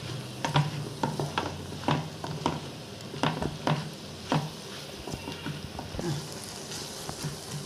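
Okra frying with spices in a pan for a tangy tamarind curry, stirred with a utensil that gives repeated scraping clacks over a soft, steady sizzle.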